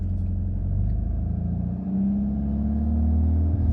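A VW MK8 Golf R running a COBB Accessport 93-octane tune pulls hard, its engine a steady, loud, close rumble whose pitch climbs as it accelerates, with no voices over it.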